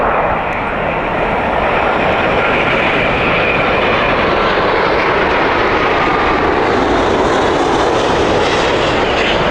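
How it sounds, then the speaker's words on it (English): A British Airways Boeing 787 jet roars steadily and loudly at close range outside Heathrow, a continuous broadband engine rush with no voices over it. "787 of British Airways"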